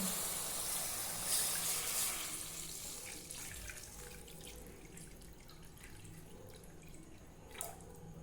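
Water is poured into a cooking pot while vegetable upma is made, a soft gushing splash that fades into faint trickles and drips in a quiet kitchen.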